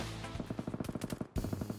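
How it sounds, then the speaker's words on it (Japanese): Rapid gunfire in the mobile battle royale game Knives Out, a fast automatic burst of sharp, evenly spaced shots that pauses briefly before another loud volley starts. "あ、銃声"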